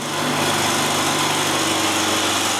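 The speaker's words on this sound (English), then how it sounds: "I'll also drill 2 holes for some dowels." A power drill bores dowel holes into wood while building a moveable workbench, giving a loud, steady motor whine that holds unbroken for the whole stretch with no talking.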